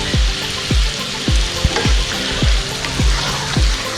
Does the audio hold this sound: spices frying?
yes